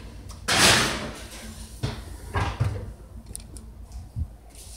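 An oven door in a home kitchen, filthy from use, is opened with a heavy clunk followed by a few lighter knocks and rattles, close and fairly loud, with no talk.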